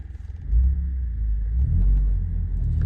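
Toyota Camry from the 2018-2024 generation driving, heard as a steady low engine and road rumble from inside the cabin with a slight rise in revs, no talking.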